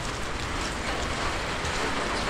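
Heavy rain pours down in a dense, steady hiss of drops drumming on surfaces, loud and continuous throughout, with no voices present.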